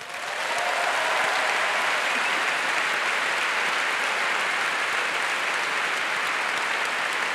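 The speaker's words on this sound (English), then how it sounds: "Please give yourselves a round of applause." A large audience at the Sydney Opera House, gathered for a Festival of Dangerous Ideas panel, breaks into dense, sustained applause that stays loud and steady throughout, with no voices on top.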